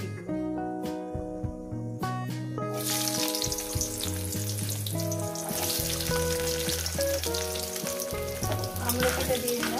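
Amla frying in oil with dried red chillies hisses into a loud, continuous sizzle after a few seconds of quiet, steady and close, with music playing underneath.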